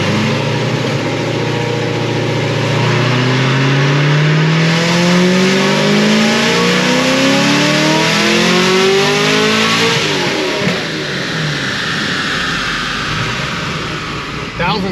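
Procharged LT1 Camaro V8 on a chassis dyno, running on pump gas with 9% ethanol, makes a full pull: loud supercharged engine rising steadily in pitch through the gears for about ten seconds, then backing off, with some talk over it.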